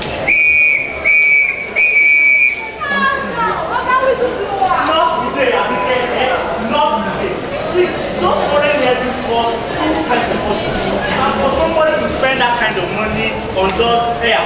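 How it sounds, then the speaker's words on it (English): A whistle shrills in sustained blasts over the first few seconds at a lavish show party at the National Theatre, Lagos, followed by loud crowd chatter and voices throughout. "I will not hesitate to blow my whistle vigorously."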